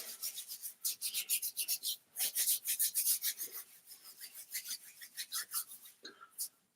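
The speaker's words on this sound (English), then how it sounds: "Just rub your hands together." Hands rub together in a quick, close, continuous run of dry friction strokes, a steady swishing rhythm with a short pause midway and no talk.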